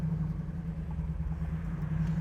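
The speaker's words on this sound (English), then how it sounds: "get out here in traffic here and listen to these pipes." A 1968 Chevrolet Camaro's exhaust pipes rumble in traffic, a steady, close, low-pitched drone with no break and no talk over it.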